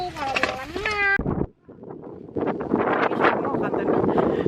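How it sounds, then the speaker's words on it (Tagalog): Wind roars and gusts outdoors, buffeting the microphone in a steady rush, with a brief voice at the start. "Mahangin. Naririnig niyo yung hangin."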